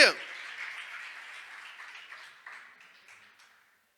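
A church congregation applauding during a morning worship service, a burst of clapping that starts strong and gradually thins out and fades to silence over a few seconds.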